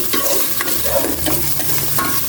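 Onion sautéed in a hot pan in a home kitchen, a steady sizzle broken by repeated spatula scrapes and stirs, close and loud with no voices.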